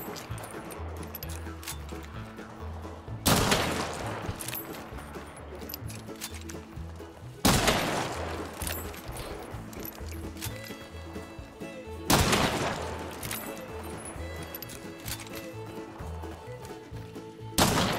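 Four sharp, loud Martini rifle shots in Hunt Showdown ring out alone at even intervals of roughly four to five seconds, over a steady bed of background music.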